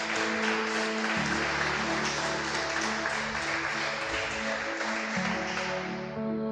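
A church congregation applauds in a dense, sustained wash of clapping that lasts throughout, blended with held musical tones underneath.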